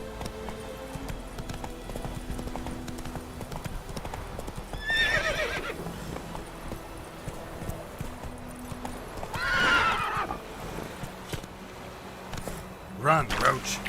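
Hoofbeats of a galloping horse in The Witcher 3 pound steadily, with whinnies and snorts rising at intervals over game background sound, and a voice speaks briefly.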